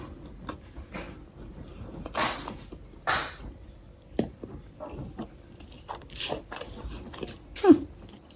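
Crunchy breakfast food is chewed during a taste test, giving close, intermittent crisp bites and crunches with quiet pauses between them and no talking.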